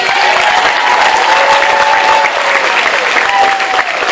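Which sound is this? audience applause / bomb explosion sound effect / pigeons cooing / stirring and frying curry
audience applause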